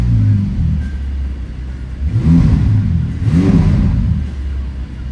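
A 2021 Ferrari F8 Spider sits in neutral over a deep idle rumble, its engine blipped twice in quick succession, each rev climbing sharply and falling back, loud and close.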